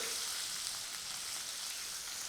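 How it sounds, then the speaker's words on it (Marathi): Mustard seeds, cumin and crushed garlic tempering in hot oil, a soft, steady crackling sizzle heard close but faint, with no talking. "मोहरी तडतडली की जिरं घालूया हिंग घालायचं आहे ठेचलेला लसूण"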